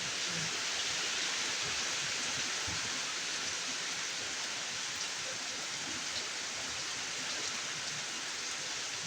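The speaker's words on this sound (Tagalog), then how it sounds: "Ang lakas ng ulan. Baha na po dito sa amin oh." Heavy rain with strong wind pours as a steady, dense hiss across the whole stretch, loud and unbroken, with no voices heard.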